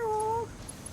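A cat gives a single short, steady meow at close range. It stops abruptly and leaves a quiet room hum.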